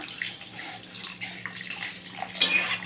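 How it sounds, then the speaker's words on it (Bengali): Water is poured into a pan of chicken curry on the stove, a soft continuous splashing and trickling that rises into a brighter gush near the end, close up with no talk. "আর আমি জল দিয়ে দিচ্ছি।"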